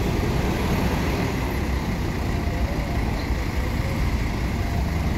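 A Sinar Jaya bus pulling into a parking spot at a bus terminal in Palembang, heard as a steady, loud wash of engine rumble and roadway noise that holds constant throughout with no talking.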